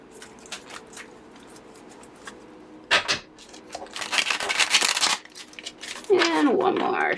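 Tarot cards shuffled by hand, with soft papery riffles and slides in short bursts that swell into a louder, sustained shuffle near the end, close to the listener.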